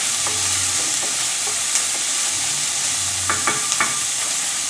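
Onions and mince saute in a pan, a steady sizzling hiss broken by a few sharp scrapes and clicks of stirring, close and fairly loud, with no voices.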